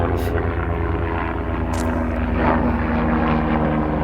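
An airplane passes overhead as a steady, loud droning engine hum with a propeller-like tonal buzz, sustained throughout without talk.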